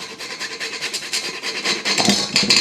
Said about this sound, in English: fresh grated nutmeg